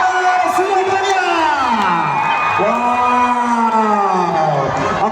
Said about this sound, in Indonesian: Tepuk tangan dong buat kalian semuanya dong.